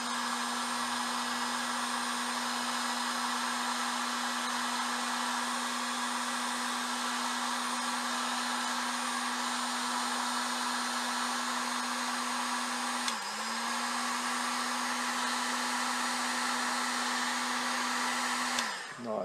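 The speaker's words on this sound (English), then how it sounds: "Now that all the heat shrink is in position, we can heat shrink those connections a little bit." Heat gun warming heat shrink tubing over wire connections during a show laser repair, a steady close blower whir with a constant hum that dips briefly once and cuts off at the end.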